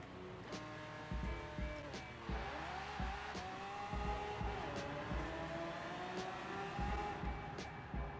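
A car in Forza Horizon 4 launches from a held high rev around 6,000 RPM and accelerates hard, the engine note repeatedly climbing and dropping through quick gear changes at steady volume.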